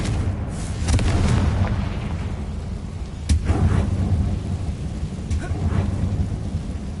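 A Confringo fire spell goes off in Hogwarts Legacy as a deep, rumbling blast with a sharp crack near 3.3 seconds, then a long rolling boom, all over a dense, noisy game backdrop.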